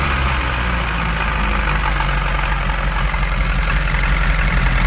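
A rebuilt 1982 Porsche 924 Turbo engine idles at its first start with a loud, steady, close rumble and a fine rhythmic pulse, with no voices.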